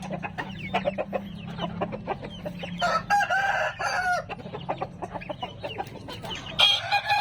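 A young American-breed rooster of about 3.2 kg crows up close, a rough, cracking cock-a-doodle-doo rising mid-clip, with clucking and scratchy farmyard noise around it.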